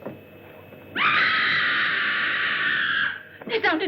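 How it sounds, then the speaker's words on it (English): A woman in a 1960 German horror film lets out a long, piercing scream lasting about two seconds. It is loud and close, begins after a quiet moment, and is followed by brief voices. "That was a scream."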